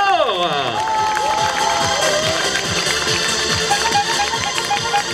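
A crowd cheers and whoops loudly at a youth triathlon prize ceremony podium in Dijon. Steady shouting fills the space, and a sustained whistle-like tone rises above it.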